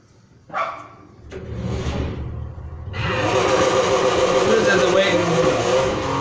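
A 1971 Nissan Fairlady 240 ZG in Need for Speed Heat revs and roars while drifting, with short engine bursts at first and then a sustained loud, gritty engine and tire noise.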